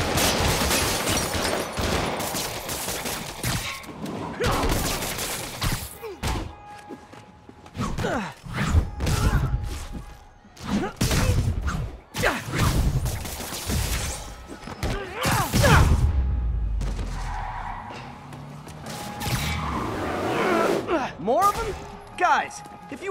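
Gunfire aimed at Spider-Man in Spider-Man Remastered comes as bursts of sharp shots and crashing impacts, with heavy thuds and scuffling between volleys and voices mixed in.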